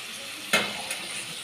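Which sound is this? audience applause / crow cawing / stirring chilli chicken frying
stirring chilli chicken frying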